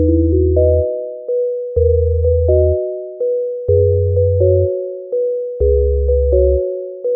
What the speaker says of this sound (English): We'll keep our waveform a sine wave, and I'll adjust the release so that it's a little bit shorter.